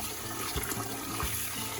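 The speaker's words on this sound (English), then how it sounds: "you're gonna dump that cloudy water out" Cloudy rinse water is poured out of a bowl of rice while preparing sushi. It makes a continuous, close splashing gush with a couple of heavier sloshes.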